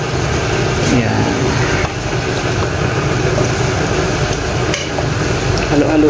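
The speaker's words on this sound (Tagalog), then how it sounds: "Ngayon, halo-haloin lang ito." Sautéed tofu and tougue stirred in a hot pan with a little salt, a steady loud sizzle with scraping and clinking of the utensil against the pan throughout.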